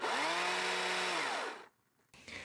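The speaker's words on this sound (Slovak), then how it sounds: "Začínam rezaním suchého stavebného reziva v niekoľkých rezoch s akumulátorom AP300S" A Stihl MSA 200 C cordless chainsaw, running on a fully charged AP 300 S battery, cuts dry construction lumber. A loud, steady motor whine holds for over a second, then winds down to near silence before a faint noise returns.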